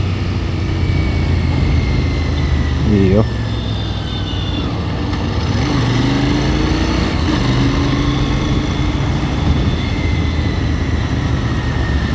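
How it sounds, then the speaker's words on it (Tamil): A whitecheetah motorcycle rumbles steadily at close range through a subway underpass, its engine note droning with slow pitch shifts over constant traffic wash, while a rider briefly exclaims. "இந்த சப்வே கீழெல்லாம் இந்த சவுண்டே வேறு லெவலாக இருக்கும்."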